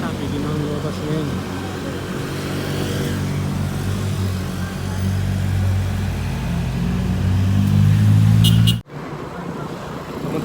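Tricycles and motorcycles drive past on a road near Tagaytay, a continuous rumble of engines and traffic that swells to a loud pass before cutting off abruptly. No speech is heard.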